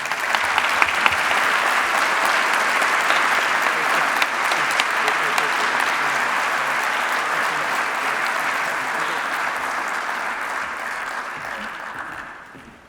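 An audience at a robotics awards ceremony gives a long, sustained ovation after an acceptance speech, a dense, even roar of clapping lasting over ten seconds before it tapers off at the end.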